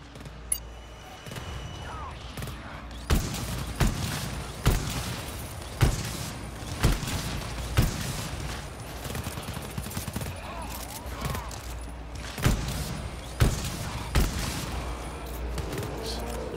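Video game gunfire with bursts of automatic fire and single sharp shots spaced irregularly, loud and close, with a player talking at times.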